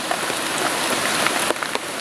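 Rain falls steadily on outdoor surfaces, a dense, even hiss with scattered louder drops, close and continuous with no voices.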